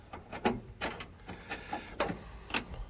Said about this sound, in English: The turn signals actually work.